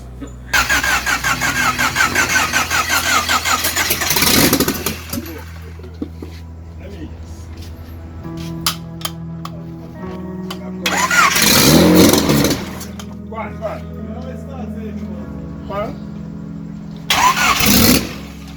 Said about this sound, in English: we started the car for the first time